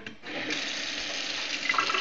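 Running water poured steadily over ice, a soft continuous splashing hiss from close range that swells slightly toward the end.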